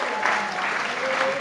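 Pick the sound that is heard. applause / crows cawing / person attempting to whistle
applause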